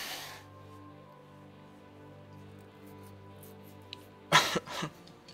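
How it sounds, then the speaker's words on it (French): A man coughs and clears his throat in two short bursts near the end, close and sudden, following a quiet stretch of low steady game music. "Désolé si je tousse un peu."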